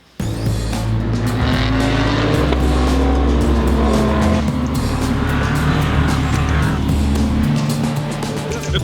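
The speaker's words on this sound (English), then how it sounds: "We have a running car." A rebuilt LMP3 race car's engine runs steadily in a workshop, a loud, rough, sustained drone with shifting pitch and revving throughout.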